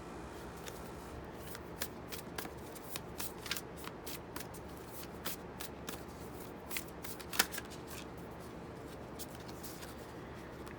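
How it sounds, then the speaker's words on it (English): A Moonology oracle card deck being shuffled by hand, a run of quick, light riffling and flicking card sounds, close and fairly quiet, with no talking. "This is my Moonology deck."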